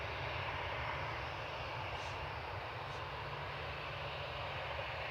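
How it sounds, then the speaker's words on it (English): A KLM Boeing 737-800 arriving from Amsterdam at Manchester Airport, its engine noise a steady, even rumble heard from a distance with no voices over it. "737-800 with flight 1031 of KLM. Coming in from Amsterdam"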